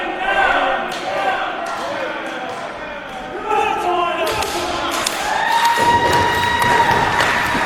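A crowd cheers and roars at a live fight event, loud and continuous, with commentators talking over it, thuds and rising shouts building toward the end.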